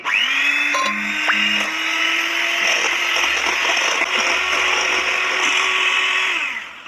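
A kitchen blender whirs steadily for several seconds as it mixes a jackfruit ice cream base with Nutella. The close, loud motor whine winds down at the end.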